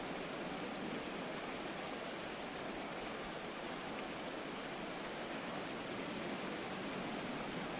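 Steady rain pours through a night football game in Madden 24. A dense, even hiss holds unbroken at a constant level throughout, with no voices or crowd sounds standing out.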